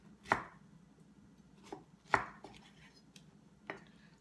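A knife chops through pineapple while slicing and cubing it, giving three sharp, close cuts against a board roughly two seconds apart, with softer knocks between them and no talk.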